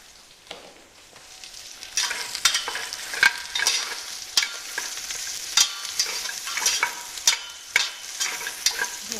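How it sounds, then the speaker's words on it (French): Small chopped onions browning in a pan for a turkey sauté, a soft ongoing sizzle punctuated by regular stirring scrapes of a utensil against the pan, close and unvoiced. "Pour roussir un peu ces oignons."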